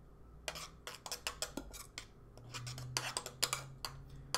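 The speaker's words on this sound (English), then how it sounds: "Take a spoon or something. Just gently mix it." Spoon clinking and scraping against a pot while gently stirring root beer jello mixture, a quiet series of irregular light taps and scrapes at close range.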